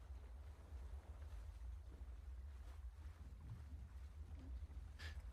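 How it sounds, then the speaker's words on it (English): Harbor ambience for a village port with boats, a steady low rumble of wind and water lapping throughout, with faint creaks and a brief higher tone near the end. "I think this is gonna have like boat sounds."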